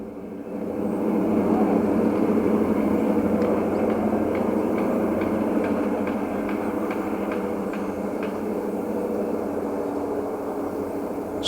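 Penn Central diesel locomotives notching out power near the Maumee River Bridge, hauling baggage cars: a loud, sustained engine drone rising and holding steady, with a faint rhythmic clicking of wheels running through.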